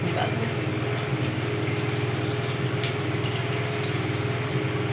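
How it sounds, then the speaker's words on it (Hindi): Water poured out of a cooking pot in a home kitchen while making methi khichdi, a steady gushing pour with a low humming tone running through it, fairly close and continuous for the whole stretch. "मैं ये पानी निकाल दूँ।"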